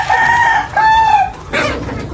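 A rooster crows loudly nearby, a drawn-out cock-a-doodle-doo followed by a rougher call.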